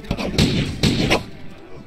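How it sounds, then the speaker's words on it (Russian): Musket shots ring out in the pirate game Corsairs Legacy as several sharp, heavy blasts a fraction of a second apart, loud and fairly close over game background. "Стрельба из мушкета."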